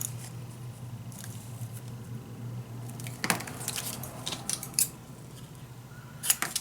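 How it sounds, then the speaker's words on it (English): Scissors snipping paper scraps for a scrapbook pocket, a few quiet close cuts with a sharper snip partway through and another near the end, over a steady low background hum. "This needs, of course, a little cutting."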